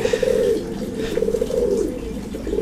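A caged bird at a bird market gives repeated close cooing calls in short phrases over a low background murmur, with no clear speech.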